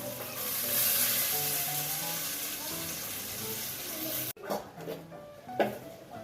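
Soft, continuous sizzle of diced potato frying in tempering oil for khichdi, then a brief cut to quieter stirring and scraping sounds with faint background noise.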